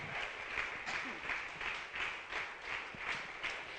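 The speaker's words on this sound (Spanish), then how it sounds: "Dele ese fuerte aplauso al Dios grande y eterno." A church congregation claps together in a steady, rhythmic beat, moderately loud and continuous.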